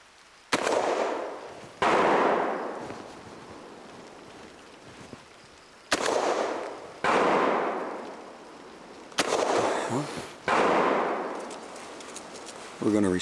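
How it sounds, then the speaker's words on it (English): Rifle shots fired in the Temagami wilderness as a distress signal crack out in three evenly spaced pairs, each sharp report trailing off into a long outdoor rumble. "So I'm going to fire 3 shots"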